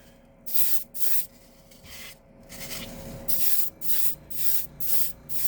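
Short bursts of spray paint hissing as light black coats go onto a Ford Transit van, a rhythmic series of close, quiet passes with brief pauses between them.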